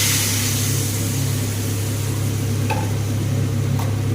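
Masala cooked with tomato and a little water in a pan gives a continuous soft sizzle and bubbling over a steady low hum, with occasional scrapes of stirring.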